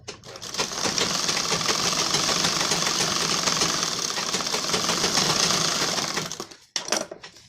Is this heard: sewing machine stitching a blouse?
yes